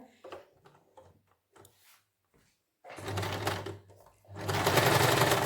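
Sewing machine stitching the collar onto a wool suit: a few short hesitant bursts at first, then two longer steady runs of fast mechanical whirring and clatter, close by, with no talk.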